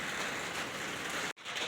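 Steady rain pattering on a tin roof, a close, constant hiss of drops with no talking, cut by a momentary gap near the end.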